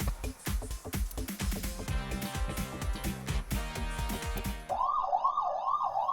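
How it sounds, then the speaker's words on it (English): A game-show style siren sound cue in the video game AI: The Somnium Files nirvanA, a repeating wailing tone that rises and falls and follows a loud stretch of music. "And boy, sirens."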